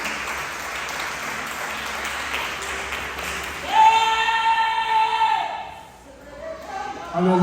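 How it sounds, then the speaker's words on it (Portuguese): A church congregation applauds during a Sunday praise and worship service, a steady patter of clapping that gives way to a sustained musical tone and voices toward the end. "Aplaude o nosso Senhor"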